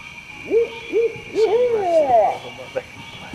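Soft owl hooting calls in a New Orleans swamp at night, a few short hoots in sequence followed by a longer wavering hoot, fairly close over a steady background hum.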